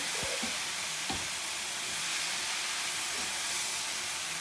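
Okra cooking in a pan gives a steady, close sizzle and frying hiss throughout, with a few light knocks near the start and no voices.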